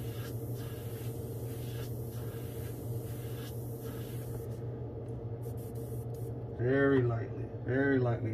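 An airbrush sprays thin transparent paint at low pressure onto a Megabass S-crank style fishing lure, producing a soft, steady, faint hiss in repeated short bursts under a low hum, with someone talking near the end.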